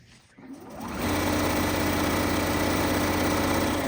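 Sewing machine stitching quilt block pieces, starting after a brief quiet moment, then a steady close mechanical whir with fast even stitching rhythm, running continuously.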